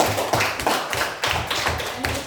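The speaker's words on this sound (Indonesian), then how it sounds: "Oke, tepuk tangan untuk ini." A class of pupils claps in a rhythmic, patterned way during a school lesson, with sharp, close, repeated bursts of hands striking in unison.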